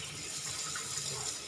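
Tilapia being rinsed clean under a running tap, a steady close rush of flowing water splashing without pause.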